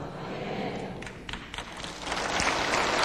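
A church audience breaks into applause during a Korean testimony talk, scattered claps that build into dense, louder clapping toward the end.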